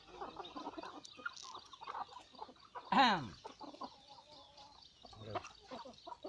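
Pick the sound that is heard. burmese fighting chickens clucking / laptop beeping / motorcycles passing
burmese fighting chickens clucking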